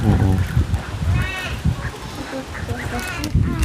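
Domestic ducks quacking and honking nearby in short repeated calls, mixed with people talking and background noise.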